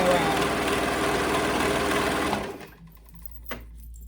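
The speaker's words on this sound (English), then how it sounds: "you're just sewing those raw edges together" A sewing machine runs fast and steady stitching the raw edges of a princess dress, a loud continuous mechanical whir that stops near the end, leaving near silence with one faint knock.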